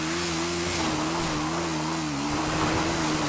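A car engine in the game GTA RP hums steadily as it climbs a hill, its tone rising and falling slightly with throttle, loud and continuous throughout.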